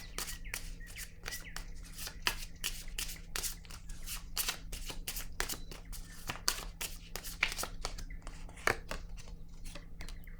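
Tarot cards being shuffled and drawn, a fast run of crisp close riffling snaps and slides in uneven bursts over a quiet low hum.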